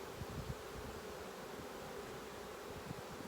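Nurse honey bees crawling on hive frames produce a steady, close, droning buzz with faint rustling and a few louder wingbeat passes, no voices present.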